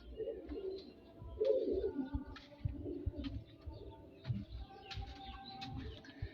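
Soft, low pigeon coos repeat on and off over faint background noise and occasional clicks, fairly distant and quiet, at the temples of Phimai, Thailand.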